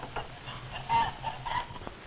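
Rhode Island Red chickens on a 1940s poultry farm cluck softly in short, scattered calls, faint and close, with no talking.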